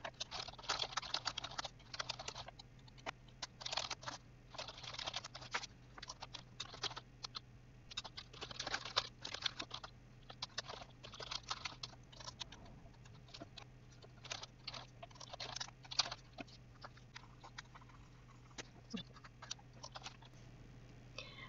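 Steady typing on a computer keyboard while writing JUnit tests in Eclipse, quick bursts of close, light key clicks with short pauses, over a low constant hum.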